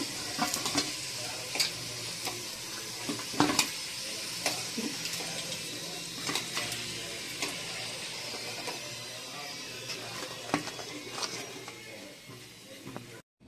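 Coconut rolls fry in hot oil with a steady sizzle and occasional sharper crackles and pops, close by and fairly loud throughout.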